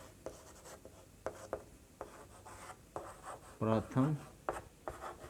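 Scratchy strokes of writing on a board during a Hindi maths lesson on prime numbers, short bursts separated by pauses, heard alongside the teacher talking.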